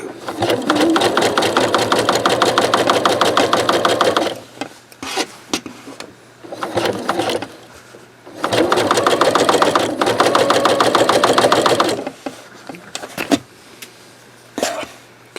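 Close, loud bursts of a sewing machine topstitching knit fabric with a twin needle, two long runs of fast, even stitching separated by quieter gaps with small clicks and handling noises.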